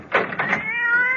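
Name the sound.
cat meowing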